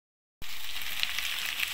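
Oil sizzles steadily in a pan as drumstick (moringa) leaves fry, a constant close hiss that bursts in suddenly and holds without pause.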